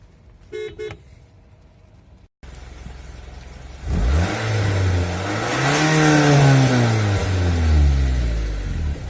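After a brief horn-like beep and a pause, a nearby 2018 Mitsubishi Outlander engine revs up hard, its pitch climbing and falling in loud surges.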